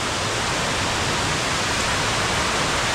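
Water rushes down a waterfall in a loud, constant roar, a dense, even hiss filling the whole moment, during river trekking in Cagayan Valley.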